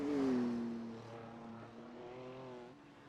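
A GT3 race car on the Long Beach street circuit in a sim racing game passes close by with a falling engine pitch, then its drone fades steadily into the distance, alone without voices.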